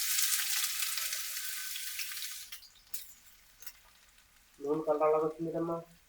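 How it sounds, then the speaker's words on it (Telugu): Onions tossed into heated oil for a farm chicken gravy and rice biryani give a loud broadband sizzle that fades over a few seconds, followed by a short burst of speech near the end. "ఆయిల్ అయితే వేడెక్కింది ఇందులో ఉల్లిపాయలు వేసుకుందాం"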